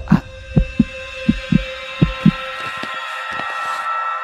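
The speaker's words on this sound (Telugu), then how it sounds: "అది నా గుండె చప్పుడు రా" A steady heartbeat thumps about every quarter second, low and distinct, over a constant electronic hum that grows louder toward the end.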